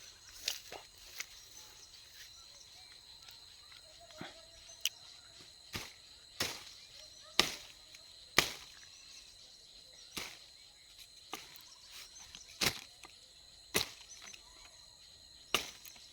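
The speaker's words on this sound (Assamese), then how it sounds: "এতিয়া ডালটো ফালি দিছোঁ।" A lemon tree branch being split to reach a boring insect gives sharp woody cracks and snaps, spaced irregularly about a second apart over quiet outdoor background.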